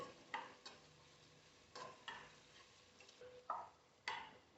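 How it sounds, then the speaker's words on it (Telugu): Dry coconut powder frying in a pan for a goat head curry masala, with a faint, soft sizzle broken by several quiet spatula scrapes and taps, close but low in level, with no talk. "కొంచెం సేపు కొబ్బరిని వేగనివ్వండి"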